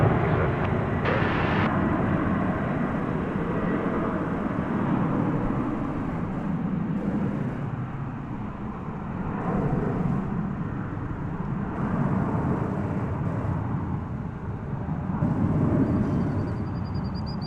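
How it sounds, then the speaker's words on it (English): A new American Airlines Boeing 767 takes off at night from DFW airport, its jet engines making a loud, sustained broadband roar that holds steady and slowly shifts over the whole stretch. "That was a pretty snappy takeoff."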